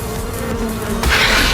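A steady insect buzz of a bee in the survival game ARK Mobile, droning evenly and then swelling louder and closer for the final half second, with no talking.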